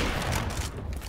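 A flashbang grenade detonating in a video game, a short loud burst that fades quickly over about a second.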